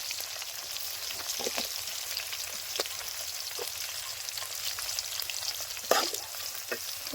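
Chopped onions fry in hot oil in a pot for village-style sambar, a steady bright sizzle with faint crackles and a few sharp pops, close and unbroken, with no talking.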